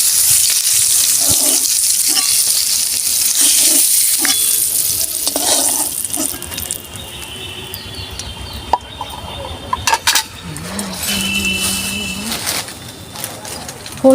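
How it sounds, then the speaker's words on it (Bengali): Pieces of pointed gourd (potol) frying lightly in oil, with a constant loud sizzle and occasional stirring scrapes and clinks, brief background sounds partway through. "আমি এইভাবে ভেজে নিয়েছি, এরকম হালকা করে, খুব কড়া ভাজিনি"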